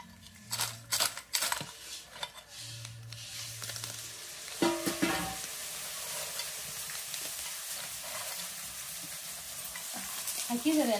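Broken wheat kheer simmering in a pot over a fire comes through as a steady low bubbling hiss, with several clinks and scrapes of a spoon against the vessel near the start and a louder clatter midway.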